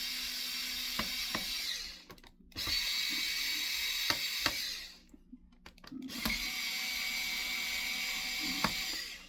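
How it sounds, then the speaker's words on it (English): A magnetic screwdriver turns screws out of an HP 15-db0048ca laptop during a battery replacement. Close, quiet mechanical whirring comes in bursts, with short pauses and small clicks between them, and there is no talking. "Usually use a magnetic screwdriver after here to try and get these out."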